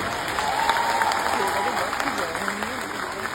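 An audience applauds steadily in a cinema hall at Nandan during a film team's hall visit, sustained clapping from a crowd with voices speaking over it.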